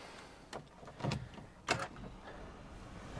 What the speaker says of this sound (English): So if I just slide the seat backwards,